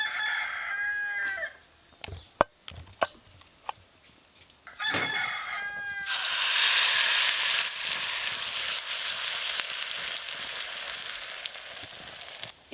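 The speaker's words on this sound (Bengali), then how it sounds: "ইডলিটা ভাপানো হয়, এটা ভাজা হচ্ছে।" Semolina and raw potato batter frying in hot white oil, a loud, steady, close sizzle that fills the second half, preceded by a few sharp clinks and a rooster crowing in the background.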